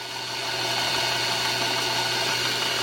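The RCBS Brass Boss case prep station's motor runs with a steady, even hum and faint mechanical rattle, heard close and alone without speech.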